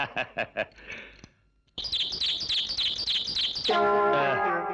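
A small bird nesting indoors gives close, clear chirps: a quick run of sharp notes, a short pause, then steady repeated chirping that turns into a sustained trill.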